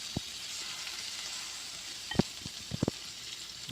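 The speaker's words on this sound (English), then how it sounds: "it's time for us to fry our shrimp, our seasoned shrimp" Seasoned shrimp fry in a pan with a steady soft sizzle, broken by a few sharper pops and the clatter of stirring near the end.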